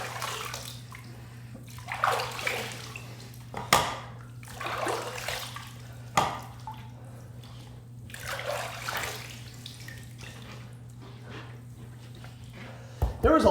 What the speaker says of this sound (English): I'm going to go ahead and rinse my head and call this head shave done.